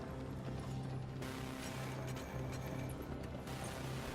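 Machine gun reload in Battlefield 1's In the Name of the Tsar DLC, a slow-firing weapon with a long reload: a steady run of close metallic clanks, ratcheting and gear-like clicks over constant game background noise.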